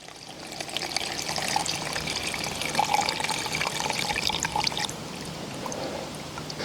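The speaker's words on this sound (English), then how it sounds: "I am going to strain the tincture from the vegetation using this handy dandy little fine mesh strainer." Herbal tincture is strained from plant matter through a fine mesh strainer, a steady close trickle and pour of liquid that eases off near the end, with no talking.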